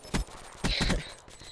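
Bursts of rapid automatic gunfire in the shooter game Black Ops 3, two short volleys in quick succession.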